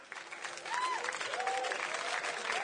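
Sustained clapping from a crowd at a 2010 MLG gaming event, loud and continuous, with a few whoops and cheers rising over it.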